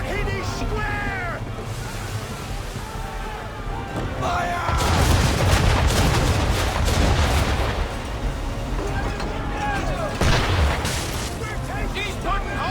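Naval cannons fire in Assassin's Creed III, with repeated heavy booms and crackling blasts rolling over a continuous roar of battle, loud and close, amid shouted voices.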